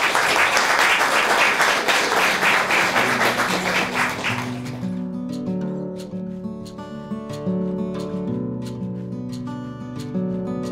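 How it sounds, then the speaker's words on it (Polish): Audience applause at an art exhibition opening with a concert rings out loudly for several seconds, then fades as sustained piano-like musical notes take over with a few scattered claps. "Bardzo miło, wielkie brawa, przywitajmy."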